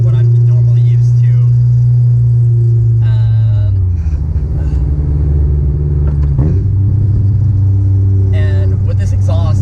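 A Honda S2000 CR fitted with a Toda exhaust drones loudly at steady engine speed, the pitch dropping then climbing again as the revs change, with someone talking intermittently over the engine.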